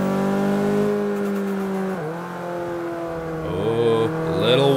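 Race car engine in Forza 5 sustains a loud, steady drone, dipping briefly as it shifts gears and then revving higher again, alone without talk.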